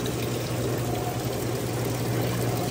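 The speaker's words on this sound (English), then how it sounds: "I guess it's just gonna do its little trickle rinse." Roper top-load washing machine running a trickle rinse, a steady, continuous wash of water and pouring sound with a low mechanical hum underneath, fairly close and unbroken throughout.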